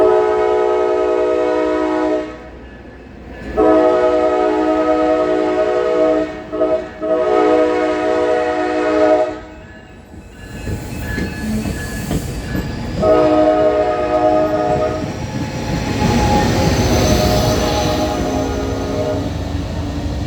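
An Amtrak train departing Encinitas toward San Diego sounds its horn in several long blasts with short gaps, followed by rumbling wheels and clattering cars as it passes close by.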